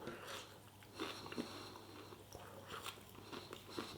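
A person crunches and chews food close to the microphone. Soft, irregular bites and crunches come at a low level with small gaps between them, and a slightly sharper crunch lands at the very end.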